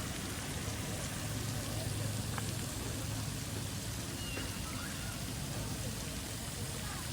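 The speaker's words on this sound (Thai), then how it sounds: "ฝน ปล่อยปลายลงมาตลอดนะครับไม่เคยขาด" Steady rain falling outdoors at a temple chedi and museum, a continuous broadband hiss throughout with faint low hum beneath and occasional soft taps.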